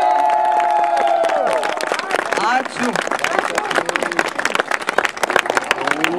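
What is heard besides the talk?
applause and cheering for the singers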